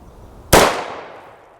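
A single sharp shot comes from a Stag rifle with a 16-inch barrel firing .223 ammunition outdoors. It sounds loud and close, with a short crack that fades into a brief ringing tail.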